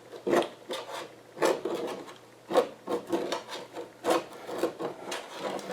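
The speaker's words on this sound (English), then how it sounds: "How it's scraping over those peels" A rough, rhythmic scraping rasps over the bottom of a pot again and again, as stuck-on plum peels are scraped loose, close by and without talk.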